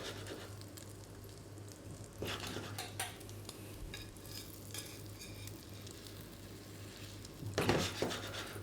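Egg-soaked bread cooking in a pan gives a faint, steady sizzle, with a few brief clinks and scrapes from a utensil near the start and a louder scrape toward the end.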